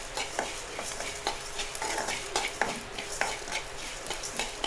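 Spices being fried and stirred in a pan for Mangalore-style kallur fish curry, with a constant close sizzle and a regular scraping stir of the spatula knocking the pan about every half second, and no talking.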